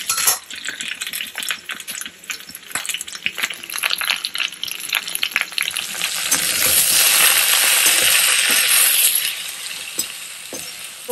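Okra sizzles and crackles loudly as it fries in oil in a pan, the hiss swelling midway, with a few metallic scrapes and clinks of a utensil.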